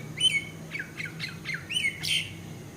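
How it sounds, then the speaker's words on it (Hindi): Several bright chirps and squawks from a bird perched overhead, close and clear, arriving in short irregular bursts over soft background hum on a rainy, foggy morning. "ये कौन सी चिड़िया है जो आके मुझे बुला रही है?"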